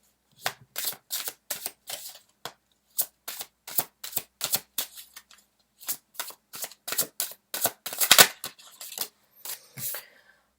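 Tarot cards being shuffled by hand, rapid papery riffles and flicks in quick bursts with brief gaps, close and crisp, alone without talk.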